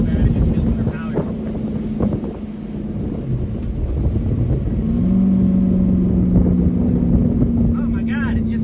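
An 1980s Ford F250 diesel pickup engine runs at around 3,000 rpm with a suspect injection pump, a loud, steady rumbling drone with a rising pitch midway, buffeted by wind noise and with voices talking over it.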